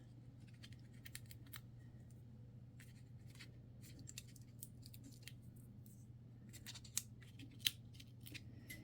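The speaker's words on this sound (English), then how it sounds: "let's take our backing off of our dimensionals" Adhesive backing is peeled off foam dimensionals for a handmade card, producing quiet crisp crackles and small sticky ticks scattered over a faint steady hum, with a couple of sharper snaps near the end.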